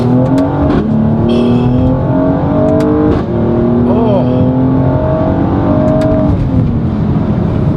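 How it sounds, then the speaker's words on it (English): A 2020 Mercedes-AMG GLC 43 4matic being driven hard, its engine revving loud and close through shifts with pops and crackles from the exhaust on the downshift, the steady roar filling the whole stretch. "The crackling is excellent. A downshift, ooh, it sounds good."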